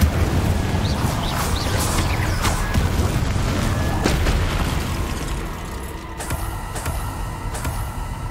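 An Incendio fire spell is cast in the video game Hogwarts Legacy, a dense whooshing, rumbling burst of flame with cracking pops, loud and close, tailing off into sharper clicks and impacts.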